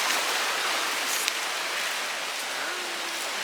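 Fast, strong river current near Luang Prabang, Laos, pours in a constant close hiss and rumble, with a faint brief tone surfacing near the end.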